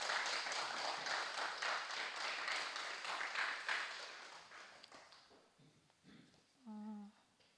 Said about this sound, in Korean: 우리 한 번 더 현정이를 위해서 박수 좀 보내주세요